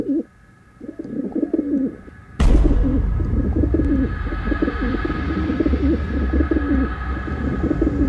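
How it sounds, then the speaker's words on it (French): A pet pigeon coos in soft, repeated rounds, close and clear, after a sudden bump partway through, with a low steady background hum. "Regardez comme il est mignon avec ses petits bruits de pigeon"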